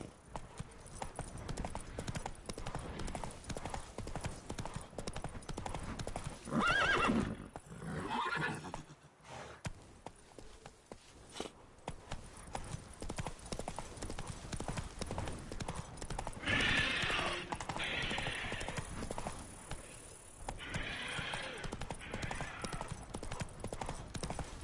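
Roach the horse galloping in The Witcher 3's Blood and Wine expansion, steady rapid hoofbeats throughout with a couple of whinnies and brief surges, close and prominent over faint background.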